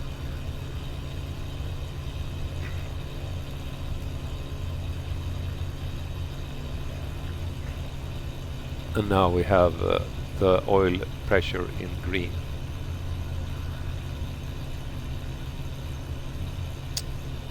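Stemme S12-G motor glider engine idling steadily through a warm-up in Microsoft Flight Simulator 2024, a constant low drone running throughout with a short stretch of talk over it.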